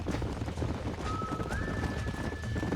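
Horse hooves clip-clop steadily in Red Dead Redemption, a continuous mid-level gallop of hoofbeats over dense game ambience, with a sustained tonal whine rising and holding partway through and no talk.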